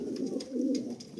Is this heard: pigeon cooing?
yes